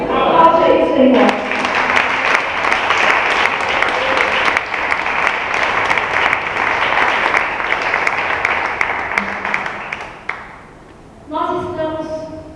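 Sustained applause from a congregation at a church Hanukkah celebration, a dense steady roar of clapping lasting about ten seconds, starting abruptly after a voice and fading into speech at the end.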